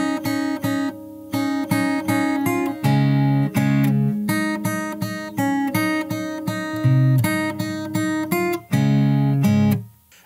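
Fingerstyle guitar plays the second half of the second verse of a song, steady plucked melody over bass notes with short rhythmic phrases, close and clear without any talking.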